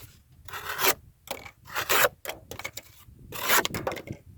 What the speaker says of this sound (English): utility cuts are very, very easy with this knife